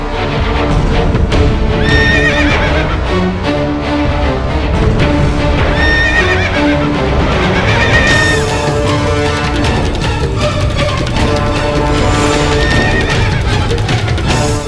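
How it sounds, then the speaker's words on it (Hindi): A warrior's horse in a historical Indian drama shies in alarm, neighing again and again with clattering hooves under a loud, dense, continuous backing. "प्रताप का घोड़ा भिदक रहा है"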